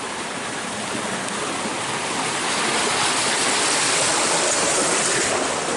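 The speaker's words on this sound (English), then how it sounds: "You can really hear the water here." Water rushes through an acequia irrigation channel at Monachil, a loud, continuous broadband roar close by that swells slightly as it goes on, with no voices.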